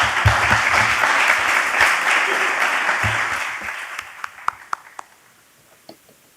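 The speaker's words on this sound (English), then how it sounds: "Please take a big clap for these individuals." At a tourism summit in Tenerife, a conference audience gives a strong round of applause that fades after a few seconds, leaving a handful of scattered late claps in a quieter hall, with some talking in the background.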